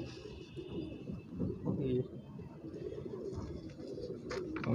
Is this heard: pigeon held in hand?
yes